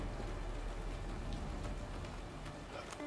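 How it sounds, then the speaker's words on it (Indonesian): Steady rain in the prison-escape video game A Way Out, a constant broadband hiss of falling drops that runs unbroken and fairly loud, with faint game sounds on top. "Lagi hujan loh"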